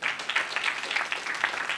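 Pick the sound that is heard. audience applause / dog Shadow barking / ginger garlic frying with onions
audience applause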